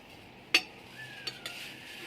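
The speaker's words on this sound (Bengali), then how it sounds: "উল্টে দিয়ে কড়াইটা উল্টে দিয়ে মাছগুলোকে উল্টে দেব।" Fish being flipped in a hot kadai: a sharp metallic clink of utensil on pan, then softer scrapes and a brief sizzle, close and alone.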